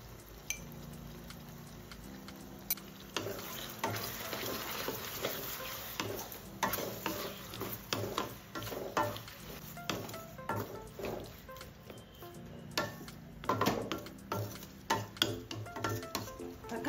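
Chopped tomatoes with turmeric sauté in a pan while a metal spoon stirs them, giving repeated close scrapes and clinks over a soft, steady sizzle.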